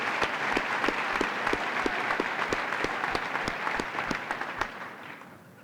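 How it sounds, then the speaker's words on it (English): Audience applause at a high school graduation ceremony, a sustained, fairly close crowd of clapping with sharp individual claps standing out, tapering off near the end. "We have a round of applause."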